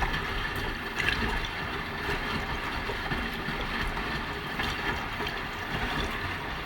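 A Hotpoint HE7L492 washing machine tumbles a load of dark laundry on a cotton standard cycle, giving a steady wash of sloshing water with a low motor hum underneath, continuous and moderately quiet, with no talking.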